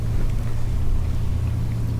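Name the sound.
sailboat motor sailing on the Atlantic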